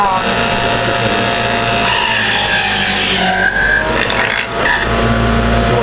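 A motorized juicer grinds with a loud, steady mechanical whine and rumble, strained and continuous, with a voice speaking over it.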